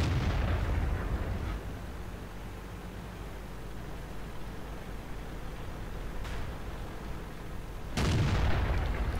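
Tank artillery booming in a World of Tanks-style battle game, with heavy low rumbling blasts at the start and a sharp second shot near the end over a constant noisy battle backdrop, with no talk.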